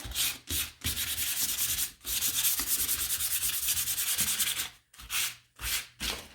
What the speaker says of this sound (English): I'm going to take my fine one first and just gently go over it to smooth it out.